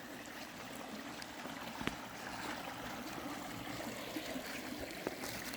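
The Magaliesberg River flows steadily in an outdoor African hiking setting, a soft continuous rush of water heard from a distance, faint and alone with no talking.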